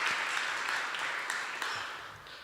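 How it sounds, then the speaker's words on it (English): Steady, soft applause from a university research-day audience, a dense wash of clapping at moderate distance that holds evenly for a couple of seconds, then thins slightly toward the end. "Can we give him another round of applause,"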